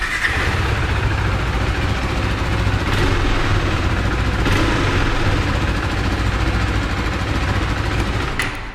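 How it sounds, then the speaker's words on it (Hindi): A KTM motorcycle engine runs close by with a steady, loud low rumble, a few slight surges breaking the even idle. "मैं आप लोगों को इस मोटरसाइकिल की आवाज़"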